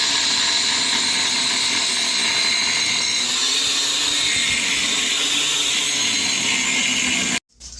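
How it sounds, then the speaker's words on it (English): A power tool grinds steadily and loudly at the welds that hold a stock bumper onto a Jeep frame, a continuous high whine that runs for several seconds and then cuts off abruptly near the end. "now we have to cut these welds off that the previous owner decided to weld this little piece of crap bumper on there"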